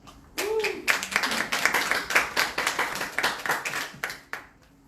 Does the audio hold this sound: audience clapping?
yes